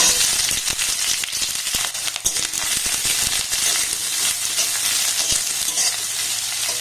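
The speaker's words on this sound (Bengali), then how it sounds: "পেঁয়াজটাকে দেখুন একটু হালকা নাড়াচাড়া করে ভেজে নিয়েছি" Chopped onion frying in hot oil with cumin seeds, a loud, constant crackling sizzle with occasional sharper pops and light stirring, no talking.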